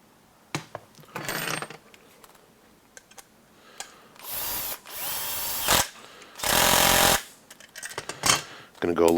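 Power drill driving long screws into an HPI Baja 5SC RC car build, several short whirring bursts of varying length, loud and close, with brief clicks and handling noises between them.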